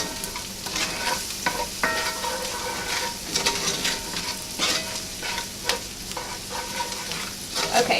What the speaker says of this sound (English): let's stir our veggies